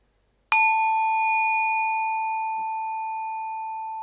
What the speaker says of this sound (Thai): เสียงระฆังดังขึ้น